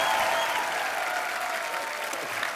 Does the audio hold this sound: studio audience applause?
yes